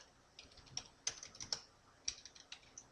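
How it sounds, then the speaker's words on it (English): Someone types on a computer keyboard, a few quiet, sparse keystrokes tapping close by, with no talking. "So I will just type in print"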